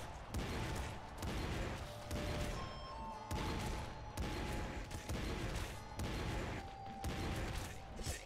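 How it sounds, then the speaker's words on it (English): Rocket launcher explosions in the top-down shooter Nuclear Throne come as dense, continuous loud blasts and crunching impacts, repeating in rapid bursts over a busy game soundtrack with tonal beeps. "This rocket launcher is opening up a lot of space for us to work with and killing things pretty efficiently"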